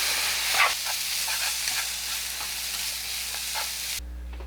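Fish cake stir-fries in a hot pan, a steady close sizzle with soft scraping stirs, ending abruptly.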